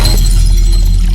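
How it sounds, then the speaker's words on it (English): A glass-break explosion sound effect plays alone: a loud, dense, steady crash of shattering glass that fills the whole second without a pause. "we're going to have the glass break explosion just going off at that time"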